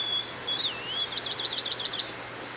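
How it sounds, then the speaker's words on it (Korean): A blue-and-white flycatcher, a summer resident bird, sings a clear, sweet phrase of rising and falling whistled notes over a faint steady background hum, fairly close and alone. "맑은 울음소리를 내죠."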